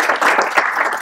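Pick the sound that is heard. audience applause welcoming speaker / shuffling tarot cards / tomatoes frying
audience applause welcoming speaker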